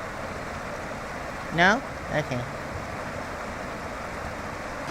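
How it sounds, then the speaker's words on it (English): The fast-running Arkansas River rushes under a bridge in Colorado as a steady, broad wash of water noise; a short spoken exchange and a brief higher-pitched animal-like call rise briefly over it. "The river's running pretty fast here"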